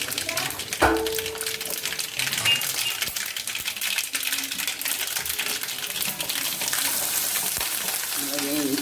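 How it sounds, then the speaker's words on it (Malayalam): Mustard seeds splutter in hot oil, a dense, crackling sizzle with rapid pops up close that grows busier toward the end, plus an early clink and faint background sounds. "നമ്മൾ എണ്ണ ഒഴിച്ചിട്ടുണ്ട് കടുക് താലിക്കാൻ പോവാണ്"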